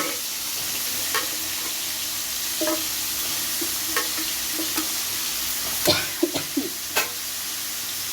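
Pumpkin pieces coated in salt and turmeric fry in a pan, a steady soft sizzle broken by scattered stirring clicks and scrapes that grow sharper and more frequent toward the end.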